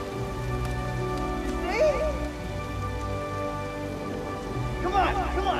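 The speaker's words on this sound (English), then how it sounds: "It's just rain." Steady rain falls throughout, an even hiss on surfaces with low rumbling underneath, while a person speaks briefly over it.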